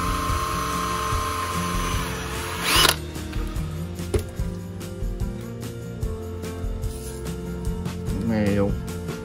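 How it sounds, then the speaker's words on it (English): A power drill bores a hole in a wooden hiking stick, its whine rising for about three seconds before cutting off, followed by handling clatter and a brief second burst near the end. "So I'm gonna take the drill."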